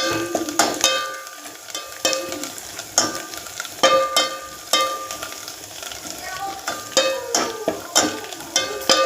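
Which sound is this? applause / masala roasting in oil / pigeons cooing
masala roasting in oil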